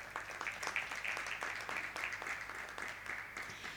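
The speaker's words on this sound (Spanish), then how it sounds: "Así vamos a darle un fuerte aplauso a Paloma." Faint, fairly distant applause at an architecture networking event at Porcelanosa in Huelva, a modest audience clapping for Paloma in a steady patter of overlapping hand claps.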